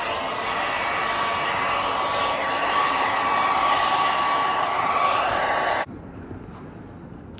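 A hair dryer blows steadily and loud at close range while hair is blow-dried, a continuous whooshing roar that cuts off abruptly near the end, leaving quiet room tone.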